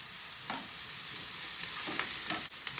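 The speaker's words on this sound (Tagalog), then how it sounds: "Lagay ko po itong bawang." Minced garlic added to onions sizzling in a pan for pork empanada filling, a steady close bright frying hiss with a few soft stirring scrapes and no talk.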